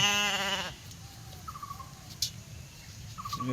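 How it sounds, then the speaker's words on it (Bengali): A native sheep bleats loudly and harmonically nearby, then quieter grazing sounds and a few rustles follow, with two short thin bleats or calls later on. "একটা ভেড়া খাবার খাচ্ছে দেখুন"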